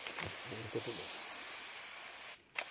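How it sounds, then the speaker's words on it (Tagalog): A crop sprayer used after fertilizing the field gives a continuous, close hiss of spray that cuts out briefly near the end and then returns, with voices talking underneath. "Og karon human sa pag-abono naga-spray na pod."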